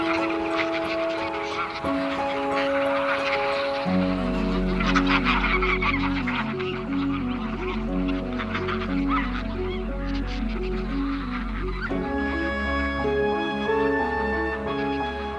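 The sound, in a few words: calls of thousands of wild geese wintering on the Rhine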